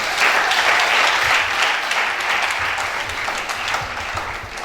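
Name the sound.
audience applause at a university lecture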